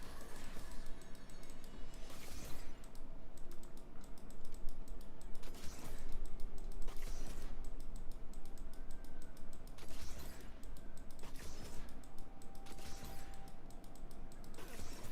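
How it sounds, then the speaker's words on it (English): Fast, steady clatter of someone typing on a computer keyboard during a League of Legends session, continuous close keystrokes with brief louder bursts, heard alone without talk. "Whatever you're typing, just stop."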